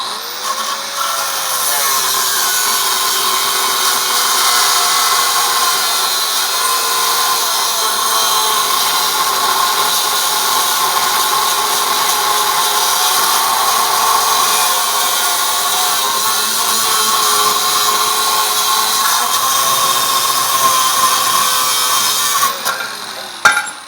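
A 4.5-inch angle grinder fitted with a 6-inch cutoff wheel whines loud and steady, cutting continuously for over twenty seconds during a rear disc brake swap on a 1986-93 Mazda B-Series truck, with slight pitch dips under load.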